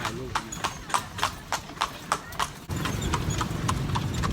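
A horse's hooves clip-clop at a steady walking rhythm while it pulls a carriage, crisp close hoofbeats that later blur into road noise, with a person talking over them.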